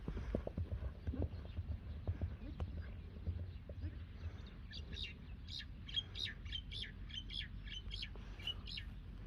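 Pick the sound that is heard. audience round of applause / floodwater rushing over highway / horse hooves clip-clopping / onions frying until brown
horse hooves clip-clopping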